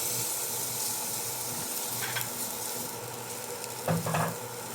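Garlic sautés in a pan for an Ilocano dininding, a steady moderate sizzle with a couple of brief stirring scrapes near the end.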